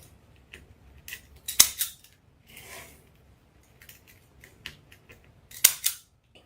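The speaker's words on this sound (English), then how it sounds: "Make sure you cut your zip tie tails" Scissors snip plastic zip tie tails while a rose wreath is being made, giving sharp, close, dry clicks in a few quick pairs and scattered lighter snips, with no talking.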